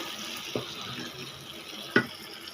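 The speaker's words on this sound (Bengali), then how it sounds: "এবারে আমি পানি দিয়ে দিচ্ছি।" Water poured into a pan of browned desi (country) chicken curry with tomato and potato, a steady watery rush with two brief knocks, moderately close and fairly quiet.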